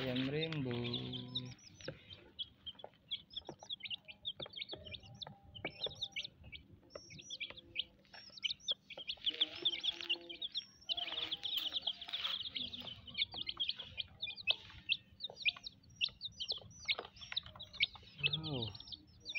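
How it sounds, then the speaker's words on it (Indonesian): Colorful rainbow chickens, a flock of young birds giving frequent high chirps and peeping calls with some clucking, fairly close, while a voice speaks at the start and end. "Ayam rainbow."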